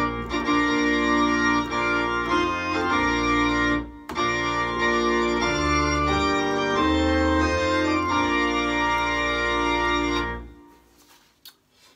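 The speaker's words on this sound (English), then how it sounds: "So, that is the Bridal March by Wagner" Wagner's Bridal March played as wedding music, a full sustained instrumental rendition with stately chords that continues steadily for about ten seconds before fading out.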